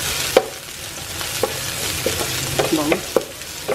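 Garlic and onion sautéing in a pan: a steady, loud sizzle with several distinct scrapes and stirring knocks of a utensil against the pan, close up, with no talk.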